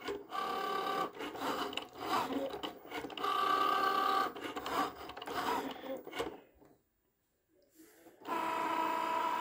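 A Cricut Joy machine cuts a Mother's Day card with a rapid buzzing, whirring motor in repeated bursts that stops briefly for a near-silent pause, then starts again.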